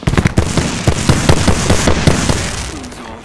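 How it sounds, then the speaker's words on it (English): Explosive bursts and rapid cracking blasts from an Apex Legends firefight around a grenade, loud and dense at first, then settling into a rumbling tail. "Look out, grenade!"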